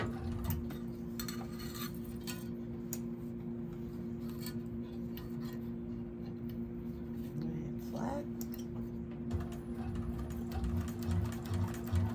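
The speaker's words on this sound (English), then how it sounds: "I'm going to do top stitching, so I'm going to change my stitch length to 6" A 1341 cylinder arm sewing machine runs top stitching on a bag at a long stitch length, giving a steady mechanical hum with faint clicks and clinks of clips on a table throughout.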